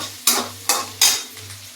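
Onions sizzling in a hot pan while a spoon stirs them in three or four quick scraping strokes over a low steady hum, no talk.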